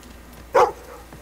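A dog barks once in Fable II, a short, loud single woof rising over a quiet ambient game background inside a cave.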